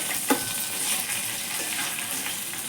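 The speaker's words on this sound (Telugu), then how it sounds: "తాలింపుకు తీసుకున్నవన్నీ వేసుకొని బాగా వేపుకున్నాక" Dried red chillies, garlic and curry leaves crackle and sizzle in hot oil in a kadai for a gongura pickle tempering, a steady near frying hiss with faint stirring.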